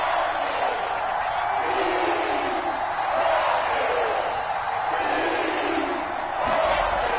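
A football stadium crowd at a Jets game roars steadily ahead of a big third down, a broad, sustained wash of cheering with a commentator's voice talking over it.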